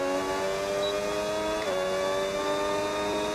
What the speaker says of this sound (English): You can hear engine more than me.